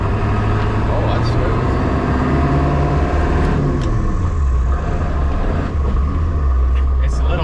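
A 1995 Ford F350 crew cab with a 7.3L diesel is driving, heard from inside the cab. Its steady, loud engine rumble drones throughout, with only slight shifts in pitch.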